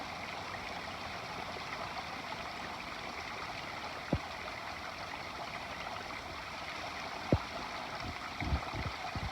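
A fresh mountain stream runs steadily in Kings Canyon National Park, a continuous close rushing and gurgling of water with a few brief clicks and knocks near the end, and no voices.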